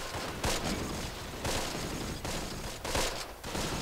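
Gunfire during a battle in the Close Combat: The Longest Day war strategy game, a constant crackle of rifle and machine-gun fire with sharper volleys about every second, loud and dense throughout.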